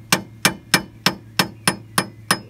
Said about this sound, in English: It's got a little bit of a hollow twang to it while you're hammering it in